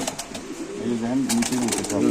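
Low, throaty cooing from caged pigeons at a busy pigeon market rises and swells, near and fairly loud, with bits of human chatter underneath.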